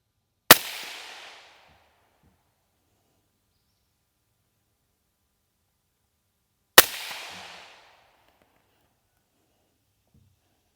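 Two single loud rifle shots from a CMMG BR4 on an outdoor range in humid Tennessee, each a sharp crack with a short fading echo, spaced about six seconds apart amid near silence.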